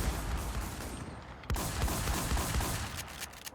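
Fast automatic bursts of gunfire in a shooting video game, some nearby and some farther off, with a sharp loud report at the very end.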